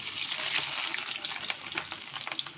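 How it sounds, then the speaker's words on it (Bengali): Onions frying in hot oil in a wok, a steady loud sizzle with bright crackling pops throughout, no voices. "কড়াইতে আমি তেল দিয়ে দিছি, তেল গরম হয়ে গেছে। এখন পেঁয়াজ দিয়ে দেবো।"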